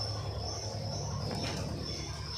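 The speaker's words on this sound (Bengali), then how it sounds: "এইখানে আমাদের সব কটা পায়রা আছে" Pigeons gathered at a rooftop or coop setting coo with low, soft murmuring. A steady high insect-like whine sits behind it, and there is a brief flutter near the middle.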